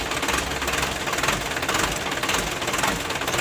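A diesel engine fitted with a Bosch PS120 injection pump runs steadily after pump adjustment, a dense, continuous rattling clatter with a rapid knocking rhythm, loud and close throughout.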